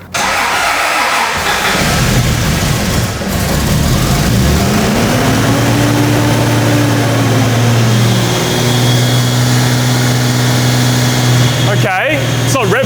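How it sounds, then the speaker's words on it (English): A Toyota Land Cruiser engine cranks over and catches, then settles into a steady, loud running idle with a slow rise and fall in pitch, as a voice talks over it throughout. "the only thing that we can do from here is give the car a start and see what happens"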